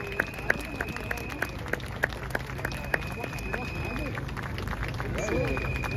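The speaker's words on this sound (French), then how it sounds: "faire un tonnerre d'applaudissements à Maître David Guillaume" A crowd at an outdoor demonstration applauds lawyer David Guillaume, with scattered claps and cheers over a steady background of murmuring voices and open-air noise, heard from within the gathering.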